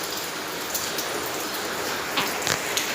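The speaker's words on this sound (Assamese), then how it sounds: "এয়া বৰষুণ দি আছে" Steady rain falling during a monsoon night in Assam, a dense, even hiss of drops with a few louder splashes near the end, continuous and with no voices.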